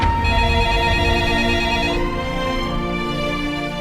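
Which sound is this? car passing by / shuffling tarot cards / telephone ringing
telephone ringing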